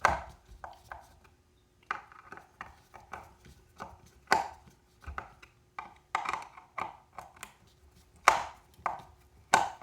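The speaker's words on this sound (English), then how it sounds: "You can remove these screws." Screws being worked out of the wooden side panel of a safari-style harmonium, heard as a series of close, sharp clicks and knocks in irregular clusters with quiet gaps between them.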